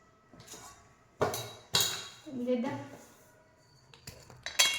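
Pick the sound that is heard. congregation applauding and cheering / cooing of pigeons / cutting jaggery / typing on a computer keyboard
cutting jaggery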